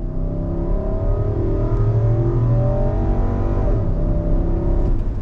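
A 2022 Infiniti QX80 Sensory trim SUV with 4x4 pulls hard under throttle, its engine note rising steadily as a loud, continuous drone heard from inside the cabin, with no talking.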